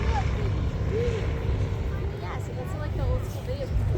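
A Boeing Stearman biplane, the third ever built, takes off at an airshow in Vanderhoof with a steady propeller-engine drone, moderately loud and continuous, while people talk nearby.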